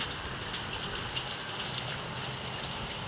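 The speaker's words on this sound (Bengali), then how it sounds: "এখন সকাল থেকেই এমন মুসলধারায় বৃষ্টি এরকম প্রচুর বৃষ্টি হচ্ছে" Heavy morning downpour pours steadily close by, a dense unbroken hiss of rain on surfaces with faint drop splashes, no voices.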